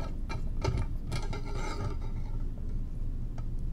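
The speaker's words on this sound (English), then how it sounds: "place your clamp on the retort stand" A lab clamp is fitted and tightened onto a metal retort stand, giving close, continuous metallic scraping, ratcheting and rubbing clicks over about four seconds with no talking.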